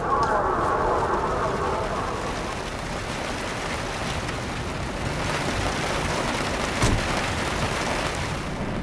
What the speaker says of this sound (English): Oh, what a terrible storm.